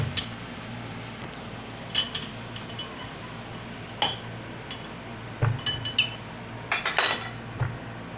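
A spoon stirring sugar into milk for sagu dana, with light metallic clinks and taps against a dish scattered through the clip over a low steady background hum, close and without talking.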